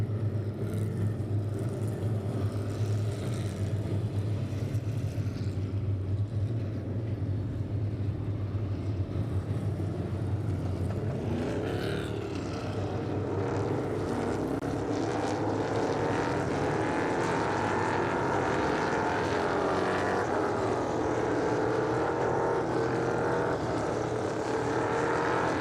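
NASCAR Whelen Euro Series race cars at the Czech Republic round circle in single file behind the safety car, a continuous engine drone that rises and sweeps as the field passes, heard without voices.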